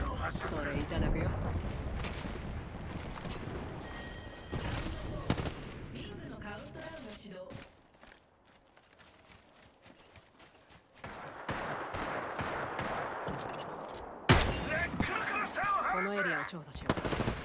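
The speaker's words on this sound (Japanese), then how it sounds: "ナックルクラスターを発射する。" A knuckle cluster weapon fires in a video game, producing heavy bursts of shots and booms with a quieter lull in the middle before loud, sharp blasts resume.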